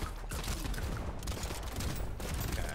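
Rapid pistol fire in the arena shooter Brotato, a dense continuous clatter of small shots layered over busy game sound effects and music, steady and loud throughout with no pauses.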